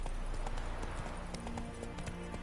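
Horse hooves clip-clop in a steady, even trot in The Witcher 3 video game, moderately close over a constant ambient background with no talking.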